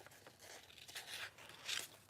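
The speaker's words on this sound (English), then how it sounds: "one nice thing when you're cutting vellum is your scissors kind of just glide" Scissors glide through a sheet of vellum paper in a crafting session, giving a soft, close crisp slicing and rustle in a couple of quiet strokes with no talk.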